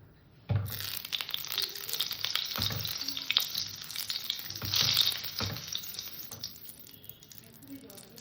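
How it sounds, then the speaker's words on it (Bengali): Oil hissing and sizzling in a hot kadai, a sudden burst of frying noise as diced eggplant goes in, continuing with stirring scrapes and soft crackles. "আমার কড়াটা গরম হয়ে গেছে অল্প করে তেল দিয়ে দিলাম"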